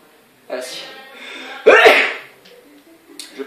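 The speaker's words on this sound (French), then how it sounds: "Oh non, je vais éternuer." A single person's sneeze bursts out loud and close, preceded by a brief breathy intake, with faint background sounds from a Zelda Twilight Princess game session.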